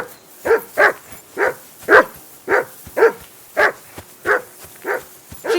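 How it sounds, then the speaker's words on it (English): A dog in Kingdom Come: Deliverance 2 barks repeatedly in a steady rhythm, about ten sharp barks evenly spaced, fairly close and clear with no talking. "Jesus, Henry, that barking's driving me nuts."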